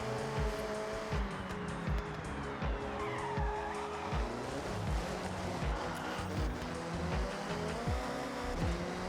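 A Nissan Silvia S13 in Forza Horizon 6 drives hard on a touge mountain road, its engine droning steadily while the tires squeal and skid through repeated slides, close and continuous with no talking.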